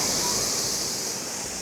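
A large tipping bucket dumps water into a family splash pool at a Gold Coast resort water park. It makes a loud, continuous, close rushing roar like a waterfall, gradually easing, with no talk over it.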